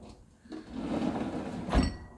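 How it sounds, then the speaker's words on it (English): A Rev-A-Shelf trash pullout drawer on soft-close slides glides smoothly with a rolling rumble, then settles shut with a soft thud near the end, close by. "Nice soft closed door, or nice soft closed slides"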